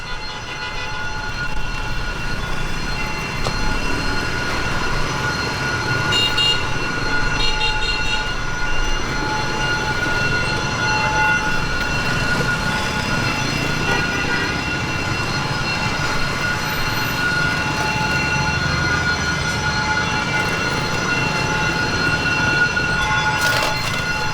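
A train rumbles steadily past at close range in Saigon, Vietnam, wheels grinding and squealing over the rails in a loud, continuous roar with no voices.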